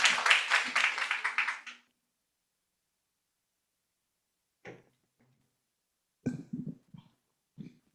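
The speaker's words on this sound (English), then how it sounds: "Please, another round of applause for her." Audience applause fills a symposium hall after a student's summer research program presentation: a burst of dense, steady clapping for about two seconds that stops abruptly, followed by silence and a few scattered faint knocks and shuffles.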